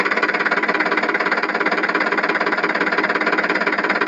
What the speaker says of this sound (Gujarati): ધૂળનું આખું ટ્રેક્ટર આખી ઓલું ભરાઈ ગયું છે ને હવે આપણે લઈને જવાનું છે